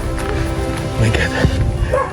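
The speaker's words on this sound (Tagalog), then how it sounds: "dinig ko na yung aso nila Albert and Jenaline." A dog barks a few times at a distance on a mountain trail, the short yips partly buried under close conversation and the shuffle of hikers climbing.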